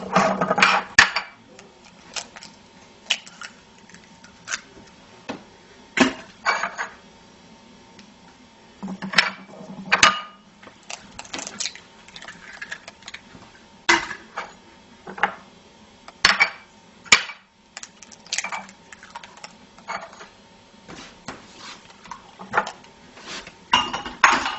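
Eggs being cracked into flour for apple fritter batter: sharp taps and clinks against a bowl come in scattered bursts, close and moderately loud, with kitchen handling noises between them and no talking.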